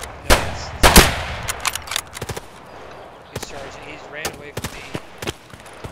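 Gunfire in the video game Escape From Tarkov in a woods setting: sharp, close, loud shots in irregular bursts, some quick rapid strings and some single cracks, with faint voices in between.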